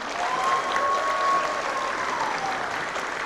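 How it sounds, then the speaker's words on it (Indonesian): An audience at an evening contest show claps for a judge being introduced, a steady, moderately loud applause that holds evenly throughout with no talking over it. "kita berikan tepuk tangan"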